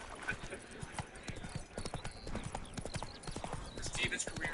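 Hooves of the horse Roach clip-clopping at a steady rhythm in The Witcher 3 on PS5, while someone talks continuously over the game sound.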